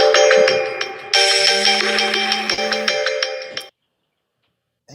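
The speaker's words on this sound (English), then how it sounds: "That was a phone call?" A phone ringtone from an incoming call plays loud and close as a bright, tuneful electronic melody for several seconds, then cuts off abruptly into silence.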